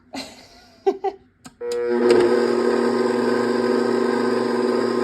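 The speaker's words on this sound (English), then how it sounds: "Raise the bowl and start the mixer." A stand mixer starts up and runs steadily with a continuous motor hum while mixing bread dough for sandwich bread with coconut oil, preceded by a few brief clunks as the bowl is raised.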